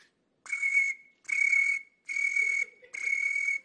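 A man imitates a cricket's chirp with his voice, producing four bursts of high, steady whistling trills at an even rhythm, fairly loud and close, with short pauses between them and no talking.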